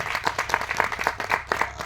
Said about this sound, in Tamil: நம்ம கலைப்பிலி சேரன் அவர்களுக்கு கைத்தட்டி பாராட்டு தெரிவிப்போம்